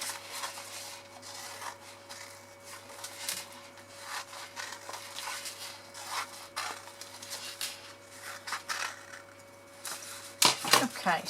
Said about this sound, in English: So literally keeping the two end ones in and cutting tabs on the three centre ones. Sorry, wedges. Cut the wedges out.